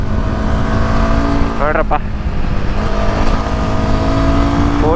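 A Royal Enfield Himalayan 450 motorcycle leans into a bend on a road ride, its engine droning steadily and loud with wind rush, while a rider's voice speaks briefly over it.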